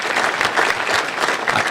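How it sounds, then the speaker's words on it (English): A county audience claps for the board at a State of the Economy address, the applause loud, dense and sustained throughout without a break. "Can we give the board a round of applause also?"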